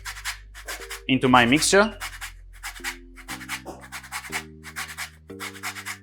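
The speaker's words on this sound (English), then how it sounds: "I need the zest of 2 lemons. So I will grate the zest now" Lemon zest is grated from two lemons for a carrot cake batter, a quick series of dry rasping strokes in steady rhythm while a person talks.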